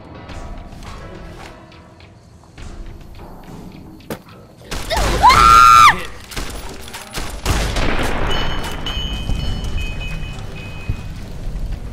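A shotgun fires in Fallout: New Vegas with one loud, booming blast and a rumbling tail, set among quieter game sounds and scattered clicks.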